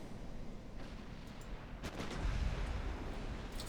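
Naval gunfire from warships in the strategy game Ultimate Admiral Dreadnoughts, a battleship taking a hit, heard as a low rumbling boom with a burst of crackling impact that swells midway and fades.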